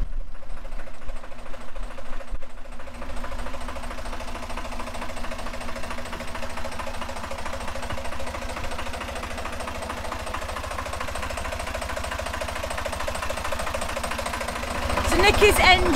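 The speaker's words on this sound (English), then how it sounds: "So Nikki's engine is a Beta Marine JD3. Yeah, mid-engine." A water-cooled Beta Marine JD3 diesel engine in a narrowboat chugs and rattles nearby at an even idle, a constant mechanical drone that swells slightly louder near the end.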